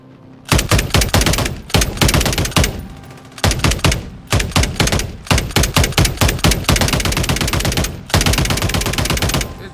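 Bursts of automatic gunfire from Call of Duty MW3 come loud and close, with rapid volleys separated by short pauses and a long sustained stretch near the end.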